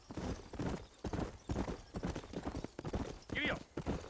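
Horse hooves clip-clop in a steady rhythm in the Red Dead Redemption video game, heard under someone talking, with a faint whinny near the end.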